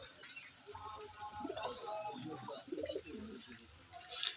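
A pigeon coos softly in a few low, rounded calls beneath someone talking nearby, the whole scene quiet and close.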